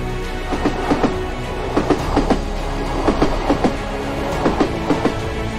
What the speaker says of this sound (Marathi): लोखंडी चाकांचा ठेका वाळवंटाच्या शांततेत मिसळतो।